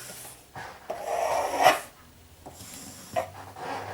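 A knife trims the edges of a SpongeBob-shaped sponge cake dusted with icing sugar, giving soft close rasping and scraping strokes, strongest in one sustained pass midway, with quieter scrapes before and after.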